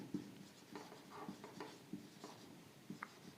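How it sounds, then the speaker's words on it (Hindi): Rhythmic short strokes of writing on a board during a class 12 physics lesson, faint and close, a run of quick scratchy taps and squeaks with no voice over them. "साथ साथ लिखते भी चलें"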